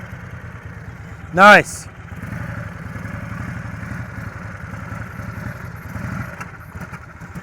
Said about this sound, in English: He's a throttle blipper.